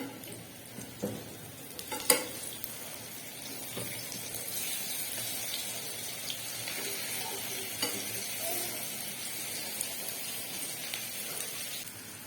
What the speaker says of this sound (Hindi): एक साइड गोल्डन हो जाएगी, फिर मैं इसकी साइड चेंज करूंगी।